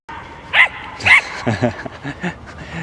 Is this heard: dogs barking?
yes